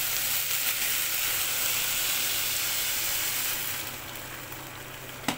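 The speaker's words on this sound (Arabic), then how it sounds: "انزل عليه بقى بالميه المغليه" Boiling water poured onto rice frying in melted ghee gives a loud, sustained sizzling hiss that drops off after a few seconds into a softer simmer, with a small clunk at the end.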